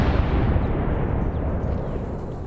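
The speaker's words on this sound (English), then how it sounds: "Roger, be aware, friendly, that's a friendly 60mm mortar strike" A friendly 60mm mortar strike in SOG Prairie Fire lands as a loud, continuous low rumble of blasts, a dense, sustained roar of nearby explosions with no talk over it.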